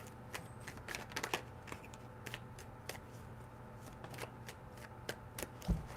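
Tarot cards being shuffled close up: quick irregular riffling clicks and soft slaps across several seconds, fairly quiet, with no talk.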